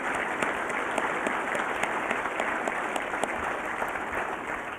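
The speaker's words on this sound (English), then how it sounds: "And we can give them a round of applause." Audience applause at an annual dinner honoring retiring board members, a steady dense wash of many hands clapping throughout, moderately loud and continuous.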